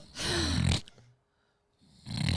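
A person's voice imitates snoring, two loud, rasping snore-like breaths separated by a short silence.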